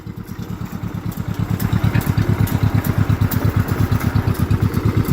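A John Deere MC crawler tractor engine chugs in a steady rhythmic putter as it moves forward in first gear, loud and close, with a faint metallic clatter over the beat and no talking.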